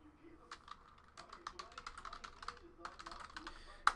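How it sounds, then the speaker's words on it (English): Keystrokes tapping on a computer keyboard, logging hits from a box break of 2018 Leaf Valiant football cards; quick irregular bursts of clicks, close and moderately soft, with some faint background voice. "Let's type in the hits."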